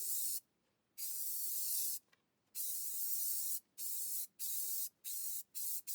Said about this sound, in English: when adding the stone texture, I find it works out better to pulse the nozzle rather than hold it down for a continuous mist.